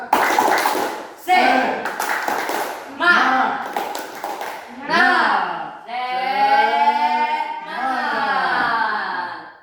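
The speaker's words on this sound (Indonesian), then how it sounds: "tepuk tangan untuk kita semua dulu" A group of children claps in rhythm during a chanted clapping cheer at a school sustainability event, with sharp bursts of hand claps mixed with loud sung and shouted voices.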